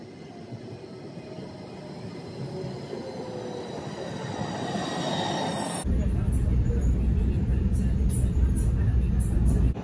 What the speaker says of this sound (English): waiting for the first ride, the first train to go to Rimini